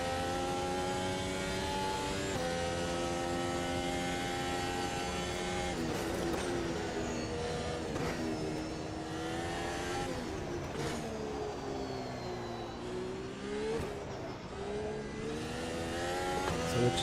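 A Formula One car engine in the racing game Automobilista 2, a loud tonal whine that rises and falls through repeated gear changes and shifts between acceleration and lifting off, running continuously.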